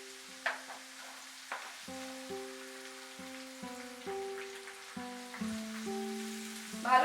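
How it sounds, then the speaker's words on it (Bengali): Dried mango pieces for a Bangladeshi mango pickle being stirred in hot oil, a soft sizzle with scraping stirs and a few clinks of the utensil against the pan, recurring every second or so without speech. "ভালো করে মিশিয়ে নিচ্ছি তেলের সঙ্গে।"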